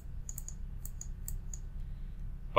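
Light, irregular clicks of typing on a computer keyboard, a few scattered keystrokes in small bursts over a low steady background hum, ending in a louder click.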